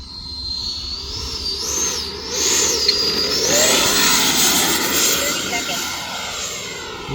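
E-flite F-16 80mm electric ducted fan model jet flying overhead, a loud sustained whooshing whine that rises and falls in pitch as it passes, continuous throughout.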